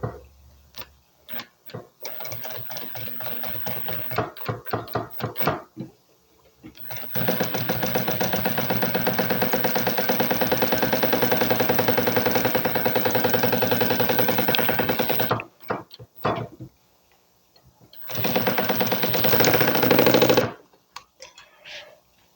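A sewing machine stitches a handbag during its assembly, running in long steady bursts of rapid rhythmic clatter separated by pauses with brief handling noises, close and loud.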